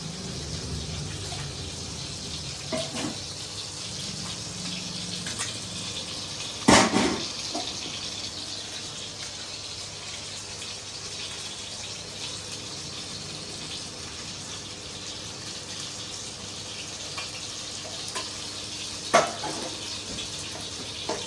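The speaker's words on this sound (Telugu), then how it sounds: "ఇప్పుడైతే నేను చింతపండు రసం వేసేసుకుంటున్నానండి ఇందులో వీలైనంత చిక్కగా తీసుకొని చక్కగా వేసేసుకుంటే సరిపోతుంది" Thick tamarind juice poured into a simmering pothu fish pulusu, a steady close liquid gush and splatter lasting throughout, punctuated by a couple of sharp clinks from the vessel.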